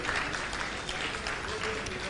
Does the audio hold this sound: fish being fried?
no